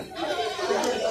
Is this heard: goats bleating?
yes